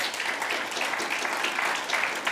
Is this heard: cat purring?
no